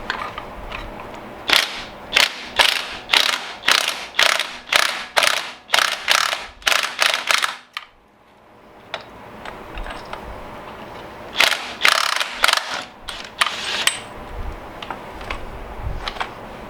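A ratchet wrench turns a 1 3/16-inch nut on a 2007 Harley-Davidson Electra Glide Ultra Classic during a belt replacement, giving loud close bursts of rapid clicking in steady strokes, a short pause, then more ratcheting.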